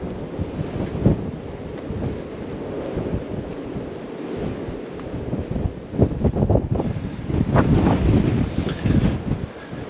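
Strong wind buffets the microphone at a coastal viewpoint overlooking Portugal and Spain, a continuous loud roar with surging gusts and possible surf underneath, no voices.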